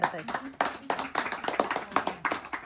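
Hands clap in a home kitchen as someone celebrates a grandmother's Maggi noodle recipe. Several sharp, uneven claps ring out close by, mixed with lively voices talking over them.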